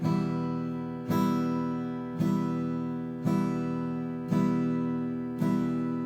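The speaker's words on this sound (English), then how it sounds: "now we're going to move on to what we call half note strumming" Six evenly spaced acoustic guitar strums ring out one after another in half notes, each chord sustaining and fading before the next, played alone at a steady slow pulse.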